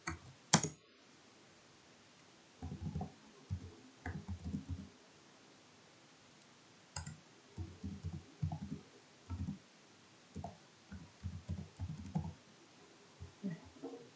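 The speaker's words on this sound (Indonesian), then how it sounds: "Kita ketik sumber data." Typing on a computer keyboard in short irregular bursts of soft key clicks, separated by pauses, quiet and close with no talk.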